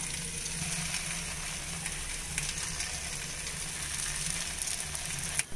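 Paniyaram batter poured into oil in a paniyaram pan sizzles in a steady, soft hiss with faint crackles, continuous and close, no voices, ending on a brief clunk.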